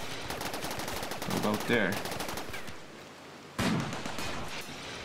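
Rapid mech gunfire in the Rimworld video game, a fast rattling burst that drops off and then resumes, under a brief spoken remark.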